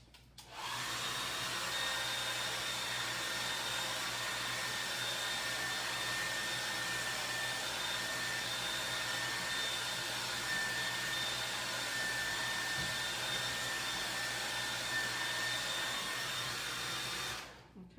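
A hair dryer runs steadily for about sixteen seconds while drying paint on a buffalo plaid pattern, giving a constant airy whir with a thin high whine that starts and stops abruptly.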